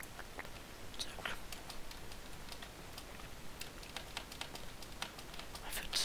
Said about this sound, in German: Ich würde so laut meine Tastatur hören